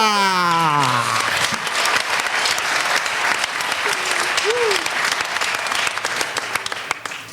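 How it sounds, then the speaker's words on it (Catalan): A strong round of applause greeting a contestant on a Catalan comedy show, dense crowd clapping rising out of a voice at the start and holding steady, with some scattered shouts and a brief whistle-like tone. "Rebeu com es mereix amb un fort aplaudiment en Jordi Vilaltella!"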